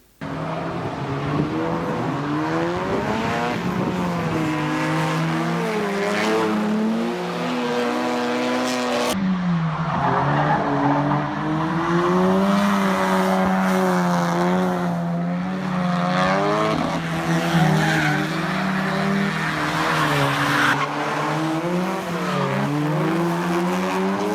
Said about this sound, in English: Here's some footage of us both drifting.